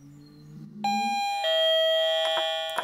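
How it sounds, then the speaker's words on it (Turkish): A bedwetting alarm rings out after a brief low hum: a bright electronic chime starts abruptly, then a second tone joins and the ringing sustains loudly with a few sharp repeated pulses near the end. "Zil çalmaya başlıyor."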